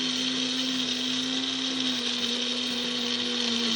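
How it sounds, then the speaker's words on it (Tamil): Blender grinding seeds and dates for laddu, a loud steady motor whine with a constant pitched hum and gritty rattle, running continuously without pause. "இப்போ இதை நம்ம பிளெண்ட் பண்ணி எடுக்க போகிறோம்."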